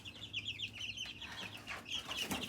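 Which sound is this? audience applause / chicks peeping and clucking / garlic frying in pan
chicks peeping and clucking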